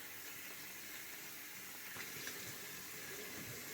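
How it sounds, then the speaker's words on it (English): Tap water running steadily into a bathroom sink, a faint, even hiss with no voices, unchanging for the whole stretch. "This time, unfortunately, I did leave the water running."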